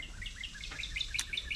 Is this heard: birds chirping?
yes